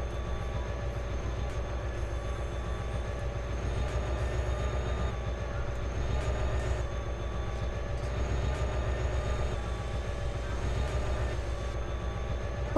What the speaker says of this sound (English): Push the lever down to move the train backward.